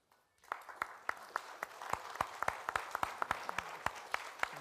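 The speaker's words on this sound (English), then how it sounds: "A round of applause." An audience at a high-level round-table conference on development finance applauds. Scattered individual claps start after a brief silence and quickly build into a fuller but still fairly thin round of clapping that continues to the end.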